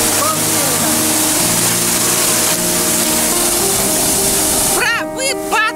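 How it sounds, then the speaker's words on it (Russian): Sea waves crash on a beach in Da Nang, a loud, continuous roar of surf close by, with a voice breaking in near the end. "Волна сейчас меня накроет."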